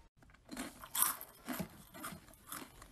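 Loud, close chewing with crunchy bites in irregular bursts, alone with no talk.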